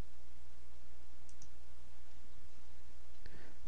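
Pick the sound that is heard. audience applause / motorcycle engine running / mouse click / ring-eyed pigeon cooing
mouse click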